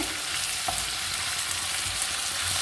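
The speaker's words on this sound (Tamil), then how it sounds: "இப்போ இது கூட நம்ம எடுத்து வச்ச கொத்தமல்லி புதினா சேர்த்துக்கிடலாம் இதே நல்லா மிக்ஸ் பண்ணிக்கோங்க" Coriander and mint sizzle and are stirred in hot chicken biryani masala, a dense steady frying crackle close by with faint scrapes of stirring and no voices.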